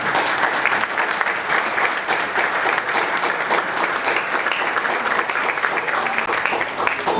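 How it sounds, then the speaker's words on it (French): Sustained applause from a gala audience at a church anniversary in Haiti, dense and even throughout with no pauses, loud and close. "On applaudit s'il vous plaît."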